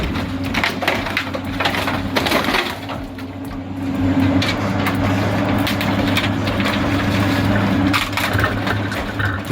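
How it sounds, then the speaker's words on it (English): An industrial shredder crushes a scrap-metal tricycle with a loud, continuous grinding roar, broken by sharp cracks and crunches as the metal gives way, and a steady low machine hum runs underneath. "It's not chaos. It's precise crushing, designed so every tooth keeps momentum and turns the tricycle's bulk into recyclable order."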